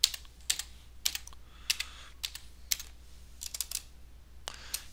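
Someone types a password on a computer keyboard in short clustered bursts of crisp, close key clicks, with brief pauses between the groups, in a quiet room.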